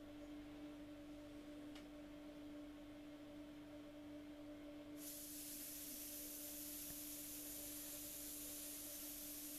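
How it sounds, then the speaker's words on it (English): Steady airbrush spray hissing close to the mic while painting light detail on a water drop, growing noticeably brighter and louder halfway through, over a constant low electrical hum. "I'm spraying a detail of light just behind the water drop"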